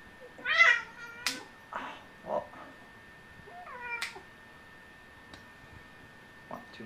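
An old cat meows several times in short, separate calls, fairly close, with quiet gaps and a faint ticking between them; a voice says a single word briefly.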